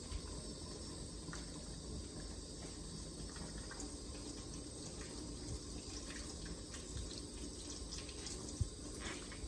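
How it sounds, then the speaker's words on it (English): Water runs steadily from a tap while hands are washed beneath it, a constant close hiss of flow with faint splashes and no voices. "And now I'm going to wash my hands."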